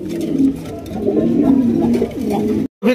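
Pigeons at a market coo steadily and close by in low, rolling calls that continue through the stretch before a brief cutoff near the end.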